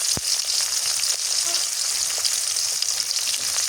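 Garlic sizzles steadily in a generous amount of oil for a leafy greens curry, a close, continuous bright crackle with a brief thump near the start and no talking.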